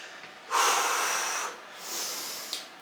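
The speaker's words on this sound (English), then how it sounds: "Breathing." Heavy breathing during a total body workout: a long, forceful exhale followed by a softer second breath and a short sharp intake, close and alone.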